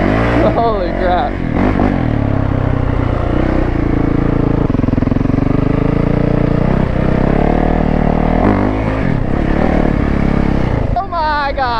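Powerful 850cc mudding quad with street tires roars and revs hard through a wheelie on sandy ground, the loud engine note surging and climbing throughout, with excited voices breaking in near the start and end.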